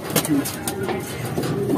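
A pigeon coos softly nearby in low, rolling calls, with light background noise and a voice briefly present.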